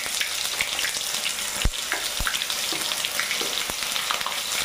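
Onion paste fries in a pan for a dish of shapla leaves and fish, a continuous moderate sizzle broken by a few sharp knocks and scrapes of a utensil against the pan.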